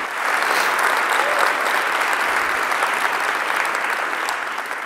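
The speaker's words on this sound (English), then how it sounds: "So I want to take a moment and have us actually all clap again for April" Sustained audience applause after a keynote talk at a Google Cloud open source event, a dense, steady wash of clapping hands holding at full strength throughout before easing slightly at the end.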